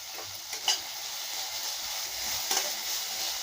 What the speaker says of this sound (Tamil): இதை நல்லா வதக்கி விடலாங்க